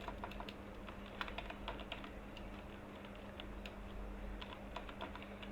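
Quiet, steady typing on a computer keyboard while entering an email into a WordPress contact form, with irregular light key clicks over a faint constant background hum and no talk.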